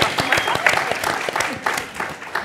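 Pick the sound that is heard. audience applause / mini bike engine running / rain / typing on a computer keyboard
audience applause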